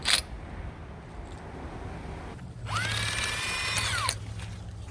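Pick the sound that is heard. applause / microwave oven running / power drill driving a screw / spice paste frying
power drill driving a screw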